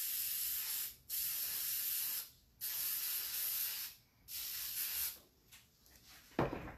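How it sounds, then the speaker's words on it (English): A spray can hisses in several short bursts separated by brief pauses, close by, spraying a tumbler before glitter is applied, ending with a faint rattle or click. "I'm just going to now put on the spray"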